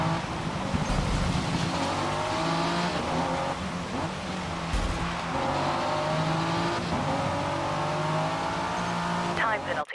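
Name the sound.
Ford car driving in video game Forza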